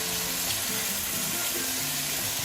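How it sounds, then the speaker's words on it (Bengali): Chopped eggplant drops into a pan of well-fried spice paste and sizzles loudly and steadily for a couple of seconds. The frying hiss stays dense and close, with faint stirring underneath. "এতে আমি দিয়ে দিব আমার কেটে রাখা বেগুনগুলো,"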